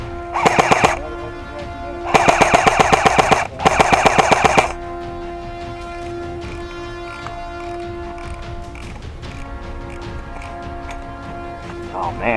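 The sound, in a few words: machine gun fire in a video game battle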